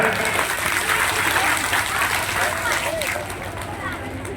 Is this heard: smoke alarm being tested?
no